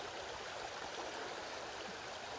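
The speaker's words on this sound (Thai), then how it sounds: "นี่นะสภาพหมายก็น้ำไหลนะครับตื้น" A shallow flowing stream at a fishing spot makes a steady, soft rushing wash of water, continuous and fairly faint, with no voices.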